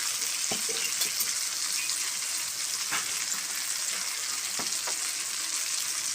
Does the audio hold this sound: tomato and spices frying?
yes